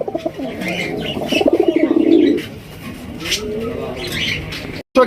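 Pigeons coo close by in low, throaty rolling calls, one long bubbling coo followed by softer ones, with a few faint chirps mixed in.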